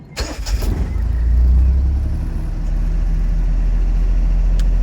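A Honda Beat engine cranks briefly and catches, then settles into a steady, loud low idle that runs on alone.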